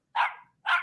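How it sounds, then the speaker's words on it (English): Two short, sharp barks from a German Shepherd, close and clear against silence, spaced about half a second apart. "Does Lee's dog sound like this?"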